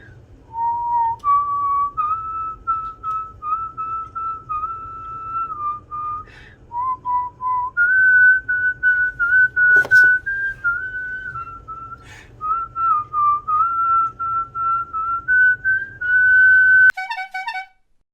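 A person whistles a song alone, a slow, smooth melody with long sustained notes and gentle pitch slides, close and clear against a low background hum.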